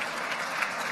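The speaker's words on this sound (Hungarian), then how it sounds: "Még egyszer egy nagy tapsot kérek az alkotónak." Audience applauding the photographer at the 2015 Nature Photographer of the Year awards ceremony; dense, steady clapping from a crowd throughout, with no speech.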